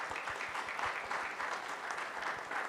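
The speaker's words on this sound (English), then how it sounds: "I just want for you all to give yourselves a round of applause for sticking with it" Audience applause at a local content business summit in Guyana, a steady patter of many hands clapping at moderate distance, fairly soft and even throughout with faint low thumps underneath.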